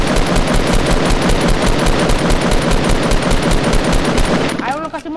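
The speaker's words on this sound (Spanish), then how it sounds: "Yo creo que disparan." Rapid machine-gun fire rattles on without a break, a loud, dense burst of shots that fills the whole stretch before cutting off abruptly near the end.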